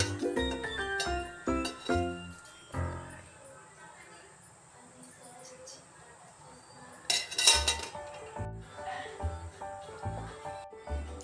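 A pan is set down with metallic clanks and clinks of utensils for making palm roti, a few sharp knocks up close, then quieter rattles and a second burst of clattering.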